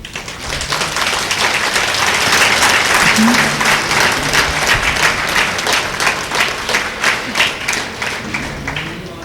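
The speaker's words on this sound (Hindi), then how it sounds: "तो मधु बहन के लिए ताली नहीं बजाई?" An audience claps for Madhu Behan at a gathering, a loud, sustained round of applause that thins into more separate claps toward the end, with a voice briefly heard partway through.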